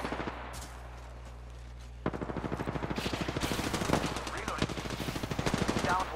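Rapid automatic gunfire rattles in the Apex Legends video game, starting with a brief shot, then a long, dense, steady burst that holds loud and close over a low game hum.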